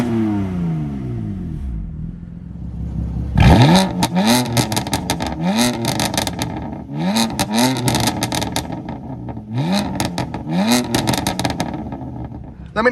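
A BMW M4 F82 Competition's engine, idling and then revved hard in several sharp bursts with rising and falling pitch, loud and close, crackling between blips.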